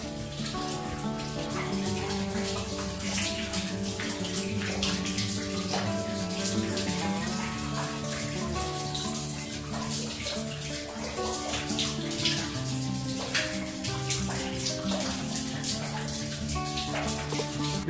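Waterfall water pours down inside a cave into a stone tank near a Devi temple, a steady rushing splash that continues evenly throughout.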